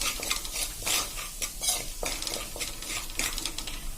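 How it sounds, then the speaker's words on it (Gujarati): Coriander-cumin powder and turmeric sauté over a slow flame in a pan, with a soft sizzle under repeated scraping and clinking stirring strokes in an irregular rhythm. "આને આપણે એકદમ સ્લો ફ્લેમ ઉપર આ રીતે સાંતળી લેશું"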